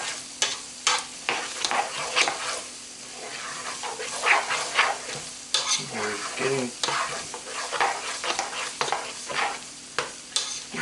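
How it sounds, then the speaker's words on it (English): Vegetables for alligator etouffee sautéing gently over medium-low heat, a soft steady sizzle broken by frequent stirring scrapes and clacks close by, with no one talking. "we just want to lightly saute it."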